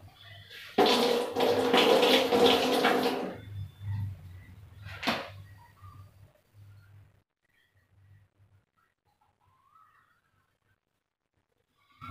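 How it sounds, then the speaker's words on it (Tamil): Water runs from a tap for a few seconds with rubbing and splashing, then stops, followed by light clatter and quiet. "இப்போ போய் கை கழுவிடுறோம்."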